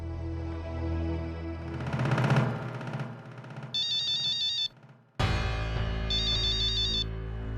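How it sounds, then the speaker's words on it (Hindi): A mobile phone ringtone plays for an incoming call, two bursts of a bright repeating electronic melody over a background music score, loud and close. "मानव बाबा का फोन"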